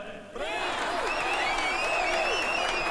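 An audience claps steadily as a singer is welcomed onto a college stage. The applause is dense and continuous after a short quieter opening, and bright whistles or cheers ride over it.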